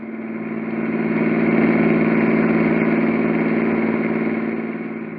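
A car engine idles steadily in an old radio drama, a low, even rumble that swells up and then eases slightly over a few seconds, with no voices.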